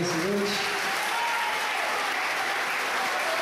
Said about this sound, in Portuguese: Dá mais uma salva de palmas para ele nessa noite